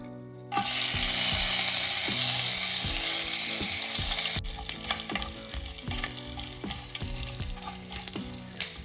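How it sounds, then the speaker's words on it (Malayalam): Whole spices dropped into hot oil for a Kerala beef roast burst into a loud, steady sizzle, with scattered pops and the clink of utensils against the pan, close and with no voices. "എണ്ണ ചൂടായിട്ടുണ്ട്. ആദ്യം നമ്മൾ ഈ മസാലകൾ ഇടാം."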